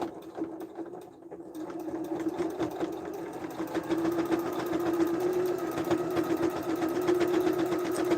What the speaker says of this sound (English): And again, don't forget to backstitch.